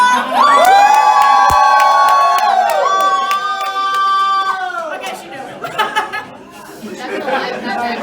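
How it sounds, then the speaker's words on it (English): A loud convention crowd cheers and shouts together, a sustained burst of whoops and voices for several seconds that then breaks down into scattered chatter and calls. "Let's get a cheer for Alana!"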